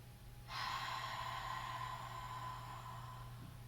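A deep breath drawn in during a beginner's yoga core workout, one long, breathy inhale that starts abruptly and then slowly fades, close and quiet over a low steady hum.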